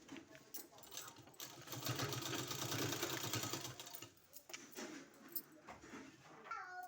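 A sewing machine runs steadily as it stitches a fabric sleeve, a dense continuous whir that fades near the end before short bursts of stitching resume up close.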